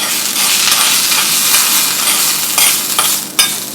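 Hot tempering poured into boiling green lentil dal (whole masoor), a loud continuous sizzle and crackle close by, settling with a few sharp clinks near the end.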